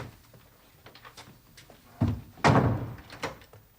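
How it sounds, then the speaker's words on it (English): A door is pushed shut indoors with a couple of solid thumps close by, the loudest landing near the end after some quieter knocks and shuffles. "And shut the door."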